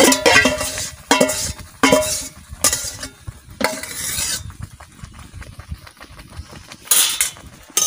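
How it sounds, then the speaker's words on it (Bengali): A spoon scrapes and stirs ripe mango pulp in a wok, giving repeated close metallic scrapes in irregular bursts with soft sizzling in between. "এরকম করে নাড়তে থাকতে হবে।"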